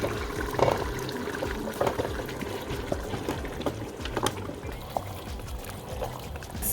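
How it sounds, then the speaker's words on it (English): Tomatoes tipped into a goat curry mixture simmering on high heat, giving a wet pouring splash followed by sloshing, bubbling liquid and scattered soft clinks, close and moderately loud. "So I'm gonna add the tomatoes to the mixture."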